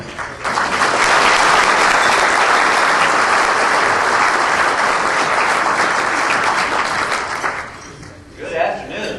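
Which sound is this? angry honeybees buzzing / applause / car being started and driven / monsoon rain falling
applause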